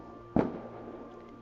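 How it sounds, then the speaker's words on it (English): A single firework bursts in a video game, one soft muffled boom fading over a quiet background hum, with no talking. "Are those the fireworks people keep talking about?"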